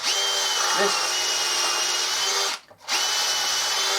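A power drill whines steadily at close range, reaming out a wooden wheel for a Westwood mower deck, briefly stopping for a moment before spinning up again and running on.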